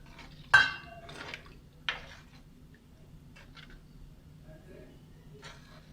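A spoon scrapes and clinks against a pan while king fish curry with coconut milk is stirred, giving a few sharp metallic knocks followed by softer scraping over a low hum.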